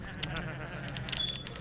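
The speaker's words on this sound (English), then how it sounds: "Shear the sheep." A sheep in Minecraft gives a short, game-style bleat among other background game sounds, with a faint tone and a few soft clicks in the mix.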